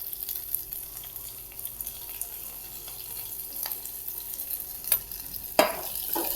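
Chillies, curry leaves and coriander being stirred in hot oil in a pan for masala rice, with soft continuous sizzling and a few scraping clinks of the spoon, ending in a louder clatter.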